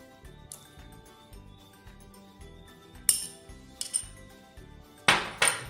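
A spoon clinks and scrapes against a bowl while Russian salad is stirred, giving a steady run of soft taps that builds into a few sharper, ringing metallic strikes near the end, with no talking.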